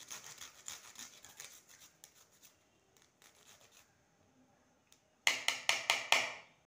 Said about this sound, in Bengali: বাকি পটলগুলোকে একইভাবে গ্রেট করে নেব।